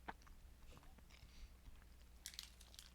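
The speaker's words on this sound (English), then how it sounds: "I'm gonna ASMR chew into the mic." Gummy candies (Maynard's Tricksters, hard and crunchy) chewed close to a microphone, giving soft wet bites and crunches in a short, quiet burst with no talking.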